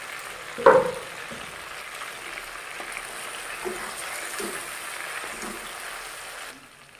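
Chicken feet frying in a pan, a soft steady sizzle with a sharp clatter of a spoon early on and occasional scraping as the pieces are stirred, fading out at the end.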